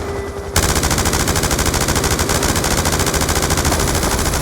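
Dense, continuous automatic gunfire from the video game Call of Duty Black Ops 2, a loud rapid machine-gun rattle starting abruptly after a brief quieter lead-in and sustained steadily throughout.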